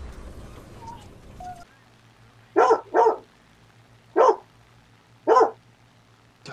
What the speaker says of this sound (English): that dog's loud.